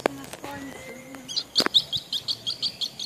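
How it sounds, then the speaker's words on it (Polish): A bird gives a quick series of bright, evenly spaced chirps close by, following a few mixed noises and brief voice sounds at the start. "Jakie piękne ptaszki!"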